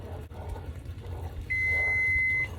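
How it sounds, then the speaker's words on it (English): A kitchen timer sounds during cherry jam making, giving a single steady high-pitched beep held for about a second over quiet kitchen background noise. "There's the timer."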